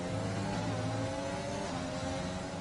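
Formula 3 race car engine running under load in a race, a steady loud mid-pitched drone with shifting harmonic tones as the driver works through the gears, continuous and close with no voices.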